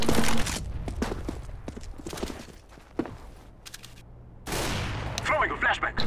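A flashbang grenade in CS:GO, preceded by sharp scattered gunshots and footsteps, then a sudden loud burst that hangs on as a bright, sustained roar to the end.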